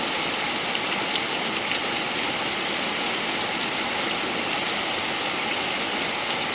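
Heavy torrential downpour roars as a dense, constant wash of rain, loud and unbroken throughout with no voices.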